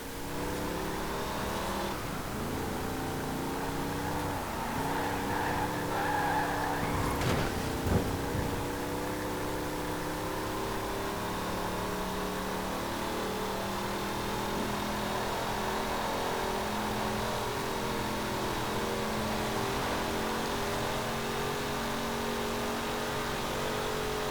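A 1972 Chevrolet LUV pickup engine in Forza Horizon 4 drones steadily for a long stretch, revving up and easing off in pitch, with a brief louder surge early on.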